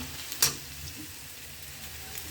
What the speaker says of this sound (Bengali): এখন পেঁয়াজটা ভাজি করলাম